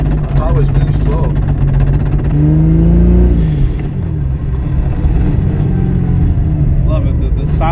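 A Mk4 Toyota Supra's 2JZ engine rumbles loudly and revs up, its deep exhaust note rising and falling close by and echoing off a wall, with faint voices underneath.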